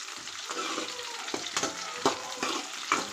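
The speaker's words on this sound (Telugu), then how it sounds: "ఇలా బాగా వేయించుకోవాలి అన్నీ" Tomatoes and green chillies fry for a chutney with a steady close sizzle, punctuated by several sharp scrapes and knocks of a spoon stirring the pan at a rough rhythm.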